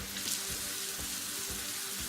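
Water running from a tap at a sink during an at-home natural facial, a steady broadband rush with faint splashing, continuous and fairly close throughout.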